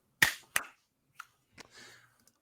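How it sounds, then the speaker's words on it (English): Two sharp, close hand claps ring out in quick succession, followed by a few fainter taps and a soft rustle in an otherwise quiet room. "count to 3 and clap"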